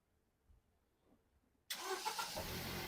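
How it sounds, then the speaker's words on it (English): A Toyota Yaris car engine cranks and starts abruptly after near silence, then settles into a loud, steady running roar close by. "Can you start the car please? Yeah, switch off and start again please."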